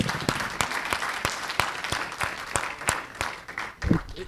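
An audience in a lecture or meeting room applauding, a dense, sustained patter of clapping with sharp individual claps standing out, steady and moderately loud for about four seconds.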